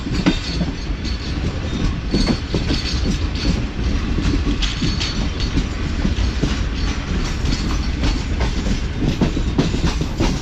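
The Shalimar Express rolls slowly through Ran Pathani railway station with a constant rumbling roar and rhythmic clickety-clack of wheels over rail joints, close and loud throughout.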